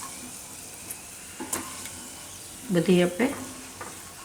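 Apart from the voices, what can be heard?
almonds and cashews roasting in a pan for pava laddu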